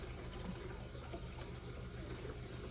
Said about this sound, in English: the point is to get your bubbles down, because the bubbles are what makes the noise